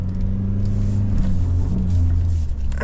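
Kia Tasman X-Pro ute engine held at full throttle while wheels spin in 4H off road, a steady loud droning rumble with a low harmonic hum that holds throughout, rising slightly near the end.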